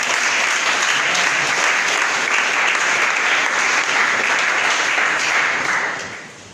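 Church congregation at a Sunday service applauding the Lord, dense sustained clapping from a large crowd that carries on steadily before tapering off at the end.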